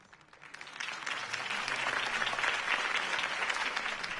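A crowd applauds for a political candidate at a rally in the Batman Telltale video game, a dense wash of clapping that swells and holds steady at moderate distance.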